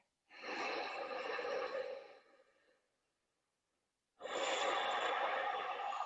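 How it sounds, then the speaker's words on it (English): A deep, full breath during a yoga session, a long audible inhale followed by a pause and another strong airy breath, close and clear with no talking. "Take one more full breath there."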